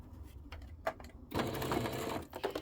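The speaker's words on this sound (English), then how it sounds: "we're going to just stitch all the way down" Sewing machine running a lengthened top stitch along the open side of a fabric Yeti water bottle holder: a brief whir early on, then a steady, close mechanical stitching run lasting about a second and a half, with no talk.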